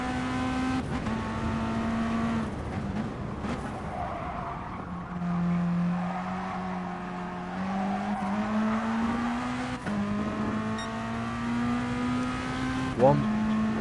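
Gravel-built rally cars racing on asphalt in a racing video game: a steady, buzzing engine drone that rises and drops with gear shifts and brief tire squeals, heard under continuous commentary.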